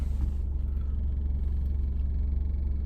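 A car engine drones with a deep, steady rumble and a buzzing vibration, loud and continuous throughout, with no talking.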